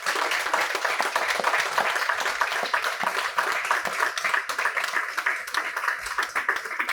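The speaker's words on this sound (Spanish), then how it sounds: "un aplauso para nuestro ponente" An audience at a Spanish-language lecture on quantum computing gives the speaker a sustained, dense round of applause, many hands clapping steadily and fairly loud for several seconds with no break.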